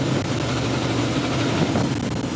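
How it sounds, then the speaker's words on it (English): Car turbochargers spool up, heard through an open window: a steady engine rumble carries a thin, high whistle that holds level, then slides downward near the end. "you hear those turbos just start to inhale half the local atmosphere, it's a cool noise"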